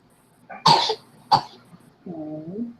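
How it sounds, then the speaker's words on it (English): A baby gives two sharp, close coughs in quick succession, then a brief whimpering vocal sound, heard indoors late at night. "She was just coughing."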